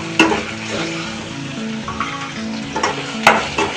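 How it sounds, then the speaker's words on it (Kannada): Onions fry in oil in a pan, giving a steady close sizzle broken by a few sharp stirring scrapes and clinks, with no one speaking. "ಈರುಳ್ಳಿ ಚೆನ್ನಾಗಿ ಫ್ರೈ ಆಗ್ತಾ ಇದೆ."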